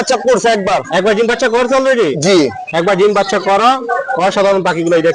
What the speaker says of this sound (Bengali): ভাই সুন্দর টিয়া পাখিগুলা